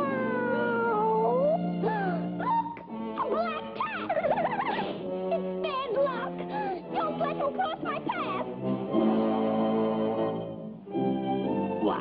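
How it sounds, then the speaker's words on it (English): Cat meowing in a Popeye cartoon, with several drawn-out, wavering cartoon meows and yowls heard over busy orchestral music and sound effects, loud and close. "He's just a harmless cat which wants to make friends."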